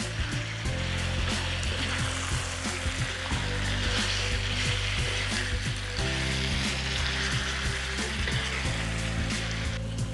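Chicken curry sauce sizzles steadily in a pan while being stirred, with a continuous bubbling fry and scattered scraping knocks of the spoon throughout; no one speaks.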